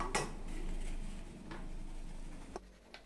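Dry ingredients for a semolina cake, including baking soda and salt, are sifted in a kitchen, soft patter with a few light metallic taps and clinks over a low steady hum.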